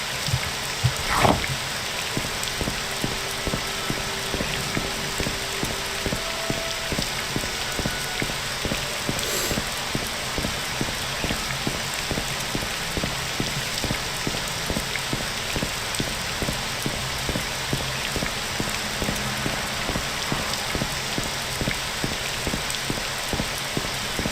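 Steady rain falls in Morrowind, a continuous dense hiss of drops hitting the ground with faint ticking and a few soft clicks and thumps, no talking throughout.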